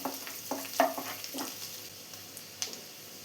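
Garlic fries in oil in a pan with a soft, continuous sizzle, punctuated by a few close stirring scrapes and taps of a spoon against the pan.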